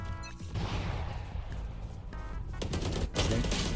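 Rapid bursts of enemy gunfire in Valorant, a loud, close stream of sharp shots that pauses briefly and then rattles on again, with no talking.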